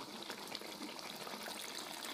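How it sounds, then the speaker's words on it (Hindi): Water gushes steadily into a pot of mutton chana dal curry, a soft continuous pouring sound heard alone. "100 ग्राम पानी डाल रहा हूँ बस"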